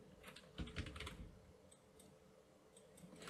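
A few brief, quiet keystrokes on a computer keyboard, soft close clicks in short bursts against a faint background hum, with no speech.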